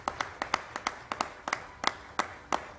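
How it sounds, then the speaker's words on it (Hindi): A small awards-event audience gives a thin, sparse round of applause, a handful of distinct claps spaced out rather than a full ovation, heard fairly close with no talking. "इन तालियों में मुझे मजा नहीं आया।"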